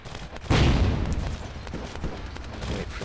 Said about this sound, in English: Wait for that little explosion which gets him to turn around